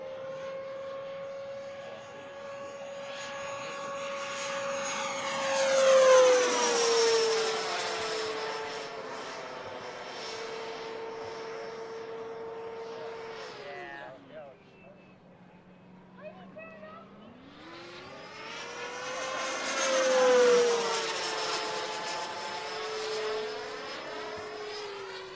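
An AeroFoam MB-339 radio-controlled jet with a 105mm electric ducted fan whines overhead, rising and falling in pitch as it makes passes, near and loud then fading and returning, while someone talks throughout.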